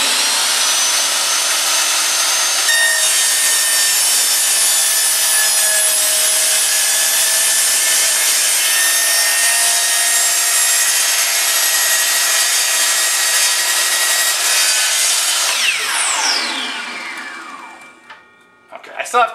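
A power saw cuts through a laminate flooring plank with a loud, steady, high-pitched whine that runs unbroken for about sixteen seconds, then winds down and stops, followed by a few brief knocks.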